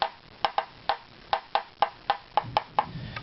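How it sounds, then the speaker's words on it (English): A violin back plate strip is tapped across at close range, about a dozen light knocks, each a short hollow wooden tock with a brief ring, spaced irregularly over a few seconds. "Alright, and if we tap across the strip,"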